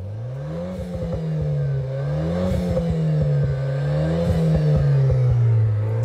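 A driving-school car drives by with a steady engine hum that rises and falls through gear changes, loud and close, with faint clattering over it.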